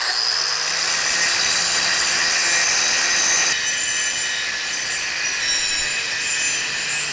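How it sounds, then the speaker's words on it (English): A power grinder shrieks steadily against steel, grinding and sanding down a homemade rear recovery point for a Nissan Xterra, loud and close with a shift in tone partway through. "I'm gonna grind everything off, just try to make it as neat as possible, sand it off"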